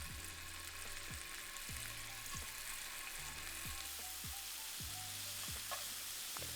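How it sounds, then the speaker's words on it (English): Scallops sear in shimmering hot oil in a pan, giving a steady, quiet sizzle and hiss that runs throughout under a faint low periodic hum. "add the scallops to the pan."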